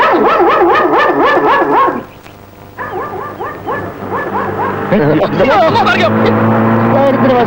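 A dog barks repeatedly in quick bursts, close and loud, with a pause midway and a vehicle passing in the background.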